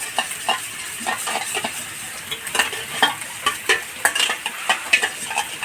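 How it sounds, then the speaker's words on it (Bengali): Yogurt being whisked in a bowl with a spoon, a quick rhythmic series of close, bright clicking strokes against the bowl that grows more regular and pronounced in the second half, with no voices. "এরকম করে ভালো করে ফেটিয়ে নেবেন।"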